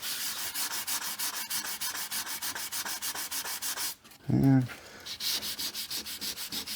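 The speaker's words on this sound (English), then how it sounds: "light sanding." Light hand sanding of bare wood before varnishing: a steady run of quick, close, rhythmic rasping strokes, then a short pause and a louder scrubbing burst.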